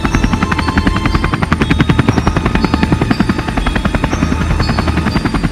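Rapid rhythmic thudding of helicopter rotor blades, loud and steady throughout, with a whining engine underneath.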